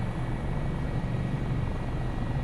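Rotor and turbine drone of an Airbus AS365 Dauphin helicopter in Microsoft Flight Simulator 2024, a steady, dense hum with a low throbbing beat, even in level throughout and heard alone.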